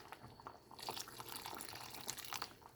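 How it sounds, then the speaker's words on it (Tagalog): Water is poured into a pot of cooking lentils, a faint, close splashing trickle with small drip-like patters lasting a few seconds. "Lagyan ko ng konting tubig."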